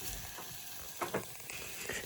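Tomatoes fry in a pan with a steady, close sizzle, and a couple of brief scraping stirs stand out over the continuous crackle.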